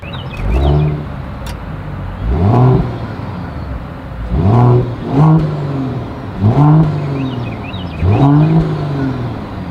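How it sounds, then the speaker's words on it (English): A 2023 Mercedes-Benz E450 Coupe exhaust heard close up through six repeated revs, each rising to a loud roar and falling back to a burbling idle between them. "As always, here is that exhaust clip."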